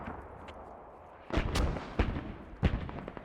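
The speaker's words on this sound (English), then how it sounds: "I'm getting ready to drop a mortar barrage on their fobs" Several booming mortar barrage explosions land in quick succession in the military shooter game Squad, rising over low background rumble, with a few heavy thuds close together.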